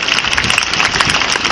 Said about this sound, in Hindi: दोस्तों जोरदार तालियां एक बार